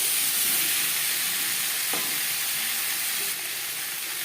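Potatoes with salt and turmeric sizzle in a pan, a steady close hiss of frying with faint stirring scrapes and the odd soft knock, constant in level and no voices.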